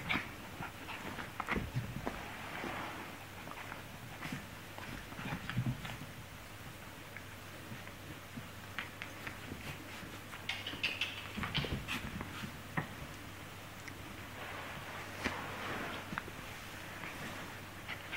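Dogs pant steadily close by, their paws pattering about, with an occasional soft whimper.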